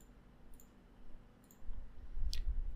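A few light computer mouse clicks are heard while a firmware file is picked in a flasher tool. They are soft and close, spaced apart, over a quiet room rumble.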